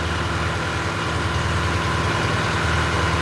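A loud engine idles in a video game, a steady, even mechanical drone with a low throbbing pulse that holds unchanged throughout, with no voices.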